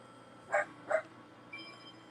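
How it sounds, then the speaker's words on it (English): A small dog barks twice in quick succession nearby, then gives a fainter yip, against a quiet indoor background. "He's a little bit noisy, but hopefully he'll stop barking at his friends in a little bit."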